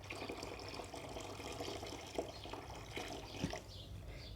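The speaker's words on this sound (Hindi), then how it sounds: "काले सूटों को माया लगानी है तो इसको इसमें और पानी डालें" Water pours and trickles steadily into a starch solution for stiffening suits, a soft continuous splashing with a few faint clinks.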